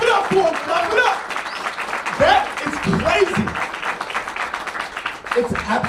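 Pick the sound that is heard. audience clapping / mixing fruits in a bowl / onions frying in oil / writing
audience clapping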